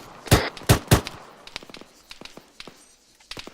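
Gunfire in ArmA 3: three loud, close rifle shots in quick succession, followed by a scatter of fainter, more distant shots and small clicks.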